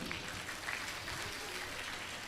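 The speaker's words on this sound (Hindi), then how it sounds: "तालियां बजाइए।" An audience claps together for a few seconds, steady and fairly faint, a dense patter of hands with no clear voices on top.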